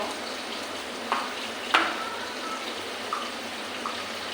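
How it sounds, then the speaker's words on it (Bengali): Ginger paste and garlic fry in hot oil, giving a steady, even sizzling hiss with a couple of faint clicks, no talking. "আদা বাটা রসুন কেটে করে রেখেছি ওটা দিয়ে দেব"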